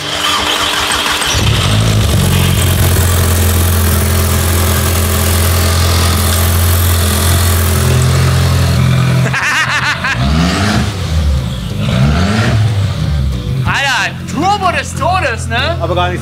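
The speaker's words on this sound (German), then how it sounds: "Wir überbrücken ihn jetzt nur, um ihn einmal ohne Auspuff zu hören." An Audi A3 turbo engine, jump-started and running with no exhaust, cranks, catches and runs with a raw, unmuffled rumble and whistling turbo for several seconds, then voices talk over it as it idles down.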